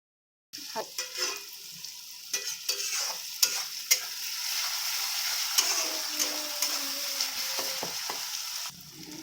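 Mutton for kosha stir-fries in a pan with a steady loud sizzle, punctuated by scraping and tapping of a spatula against the pan, then cuts off abruptly near the end.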